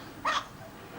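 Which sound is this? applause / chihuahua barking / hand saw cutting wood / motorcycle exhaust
chihuahua barking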